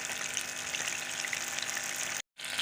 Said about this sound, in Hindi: ये इनको दोबारा फ्राई कर रही हूँ